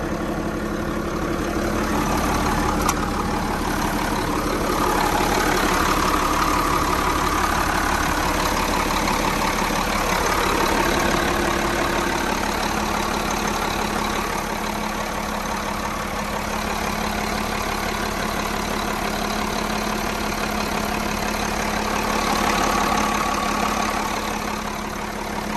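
A 2000 Komatsu WA320-3MC wheel loader's diesel engine idles steadily up close for about half a minute, a constant low rumble with a faint whine on top and slight swells in level, no talking.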